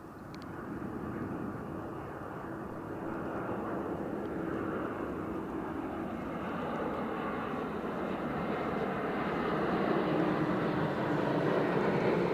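A Lufthansa airliner at Edinburgh Airport gives a steady, broad jet-engine roar that builds slightly louder toward the end, heard continuously without talk.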